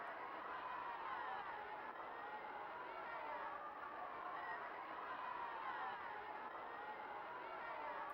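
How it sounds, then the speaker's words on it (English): Steady crowd noise from the bowling alley in the PlayStation game Animaniacs Ten Pin Alley, a continuous wash of cheering and chatter with a voice in the crowd yelling "Arriba, Arriba" somewhere in the mix. "I feel like I can hear someone in the crowd yelling Arriba, Arriba."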